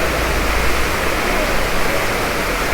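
Ekayam waterfall in Idukki, swollen by the monsoon, gives a steady, close, full roar of falling water that fills the whole moment without a break.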